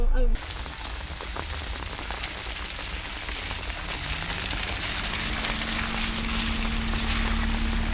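Rain falls steadily around a vehicle during a downpour, a dense hiss of drops on the surface under a low engine hum that grows slightly louder, with a brief voice at the start.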